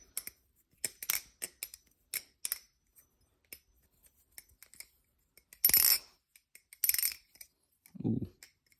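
A recently lubed Jerry Hom iBass balisong knife is flipped, giving quick metallic clicks and clacks in irregular bursts, with a few louder snaps and a brief low thud near the end, close up and without speech.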